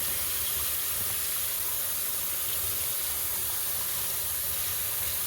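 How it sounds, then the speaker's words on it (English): Water runs from a tap over freshly harvested ghost pipe plant roots in a steady, loud, hissing spray. It continues unbroken throughout, with no voices. "and we just do a light rinse"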